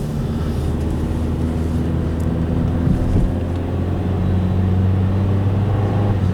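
Steady low road rumble inside a car riding home at night through heavy traffic, a constant engine and tyre drone with some wind noise and no talking.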